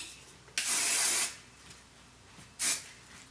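Hairspray from an aerosol can hisses onto a section of styled curled hair in two bursts, a longer spray followed by a short one, close and loud, with quiet pauses between.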